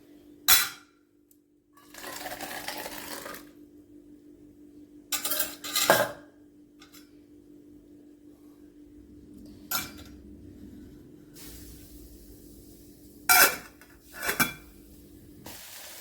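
Chow chow (chayote) sambar being shifted into another cooking vessel, with loud, separate metal clanks and scraping of a ladle against pots spread across the span, each followed by quiet.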